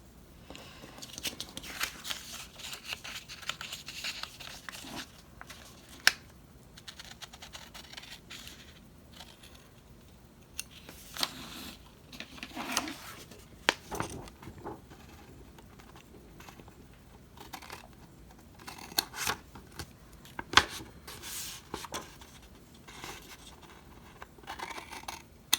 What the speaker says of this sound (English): I guess I could have used my bigger scissors.